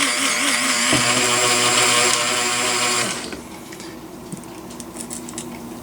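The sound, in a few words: grinder slowing down while grinding sugar to powder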